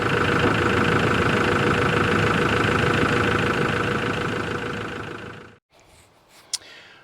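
A car engine idles with a steady low hum and a constant whine after a radiator and coolant refill, then cuts off near the end, leaving near silence with a brief click.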